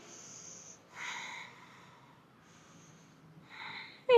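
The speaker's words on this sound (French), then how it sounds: "On prend 2 respirations." A person doing yoga breathes slowly through the nose while holding a warrior pose, with two airy exhales and inhales, close and soft with quiet pauses between them.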